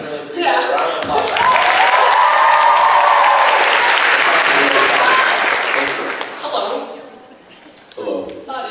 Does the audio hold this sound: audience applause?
yes